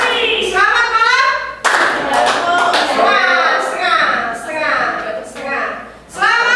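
A class of schoolchildren claps in short, sharp bursts during a concentration game, the claps landing between a teacher's spoken prompts and children's voices close by in a classroom.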